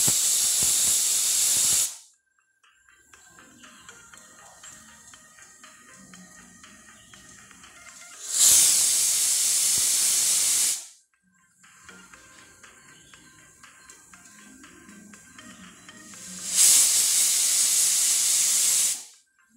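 A pressure cooker on a high gas flame lets out three loud bursts of hissing steam, each about two seconds long, with a quieter rattling bubble between them.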